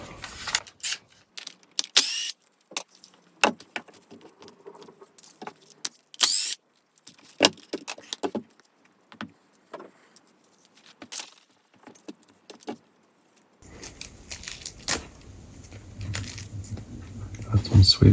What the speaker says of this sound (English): we're going to go ahead and take the tires off.